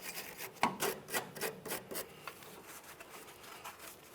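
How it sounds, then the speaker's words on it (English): A wire brush scrubs the threads of a front brake flex hose on a 2012-2015 Honda Civic, giving a series of short, close rasping strokes that fade toward the end. "I'm still using a wire brush."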